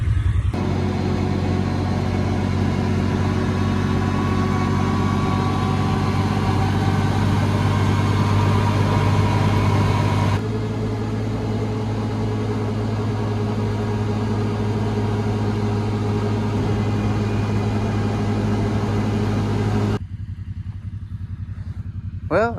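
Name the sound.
John Deere side-by-side vehicle driving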